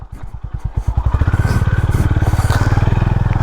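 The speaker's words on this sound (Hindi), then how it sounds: "चलो अब हम एक बड़ा पत्थर वाले रास्ते पे आ गए हैं, देखते हैं ये मोटरसाइकिल कैसे जाएगी।" Honda Highness CB 350 motorcycle crawling over a rocky, stony path, its single-cylinder thump loud and close, firing in a steady rapid rhythm that quickens slightly, with faint clatter of stones beneath.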